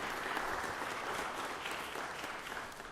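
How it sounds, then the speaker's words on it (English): Applause welcomes guests in the Georgia Senate chamber, a brief, moderately quiet patter of clapping from the room that holds steady and fades slightly toward the end. "just give them a round of applause and welcome them to the Chamber"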